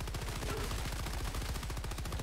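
Rapid automatic gunfire in a video game on a higher difficulty setting, a dense, steady rattle of shots with no pauses, fairly quiet throughout.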